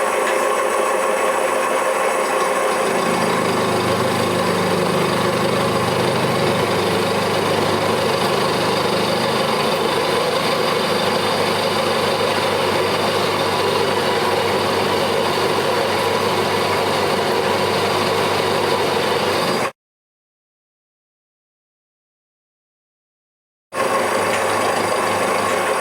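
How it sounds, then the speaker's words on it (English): A BF 30 milling machine cuts with no column support, giving a loud, steady, dense machining roar that runs continuously, stops abruptly for a few seconds of silence, then resumes. "Let's try some real life milling. Milling, no support at all."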